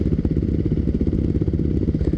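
A Yamaha WR450 dirt bike engine runs steadily close by, a loud, continuous low rumble with a fast, uneven throb and no pauses throughout, no voices over it.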